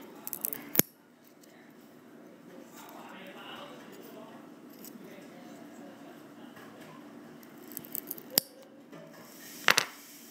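Scissors snipping through a wooden toothpick for a doll-sized microwave craft, a few crisp, close clicks and snaps spaced across a quiet room with a low background murmur.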